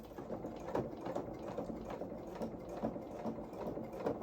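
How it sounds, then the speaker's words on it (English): A sewing machine stitching slowly around a curved collar on coveralls, a quiet, close mechanical whir with soft rhythmic needle ticks, running steadily without talk. "So now I'm going to sew around this curve carefully."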